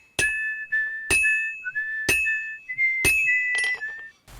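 Melodic whistling in Kingdom Come Deliverance 2 plays as a clear, close tune of sustained notes, broken by four sharp metallic clinks at a steady one-second rhythm, with no talk over it.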